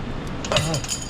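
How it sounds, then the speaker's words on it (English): Metal wrench dropped on the ground during a rear shock replacement on a 2020 Honda Accord, giving one short, bright clink with a brief ringing tail. "I dropped my wrench."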